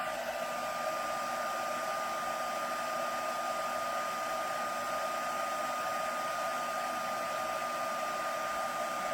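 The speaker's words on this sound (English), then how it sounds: "So I'm just heat setting this." A heat embossing tool heat-sets embossing powder on a handmade card, giving a constant, close, whirring blow with a steady tone and no pauses.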